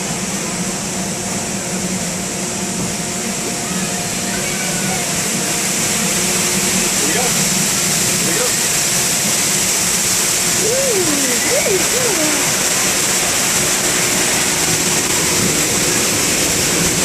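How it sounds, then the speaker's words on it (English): Waterfall roaring at Dallas Zoo, heard from a passing monorail: steady broadband rush of falling water holds throughout, loud and continuous, with faint voices and brief bird-like chirps drifting over it. "Now as we get close to the waterfall"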